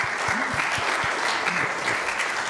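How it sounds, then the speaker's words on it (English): Audience applause for presenters at a talk on monarch butterflies in Mexico: steady, dense clapping fills the room throughout, with a few sharper claps standing out nearby. "let's give our presenters a big round of applause."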